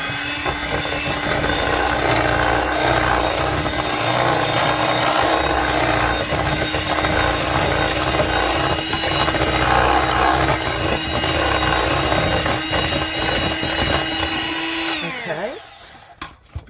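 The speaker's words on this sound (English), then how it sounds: "Go ahead and blend that up." A kitchen blender whirs loudly and steadily, mixing a shrimp mold with a can of undrained mild Rotel, a constant motor drone that runs for about fifteen seconds before spinning down and stopping.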